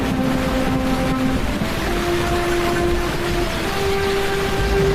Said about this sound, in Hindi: अरे आज तो कितनी तेज बारिश हो रही है